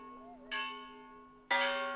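Church bells ring in Teotitlán del Valle, Mexico, with two clear strikes about a second apart, each leaving a ringing tonal decay. The sound is fairly faint and quiet between strikes.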